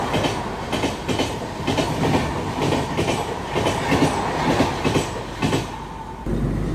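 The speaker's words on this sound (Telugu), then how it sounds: "వసై రోడ్ బయలుదేరింది బండి" An Indian express passenger train running on rails, heard from on board as a loud, steady rumble with rhythmic clickety-clack wheel beats over the joints.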